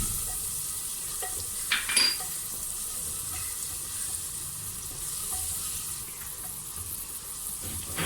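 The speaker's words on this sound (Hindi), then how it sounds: "लाल मिर्च को हल्का सा भून के" Chicken fries in a pan with turmeric and red chili, giving a steady, close, even sizzle throughout with a couple of brief utensil clinks. No one speaks.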